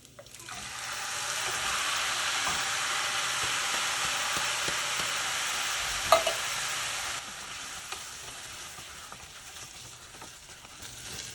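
Diced tomatoes hit a hot pan and set off a loud, steady sizzle that carries for several seconds, with a brief knock midway and a quieter hiss toward the end.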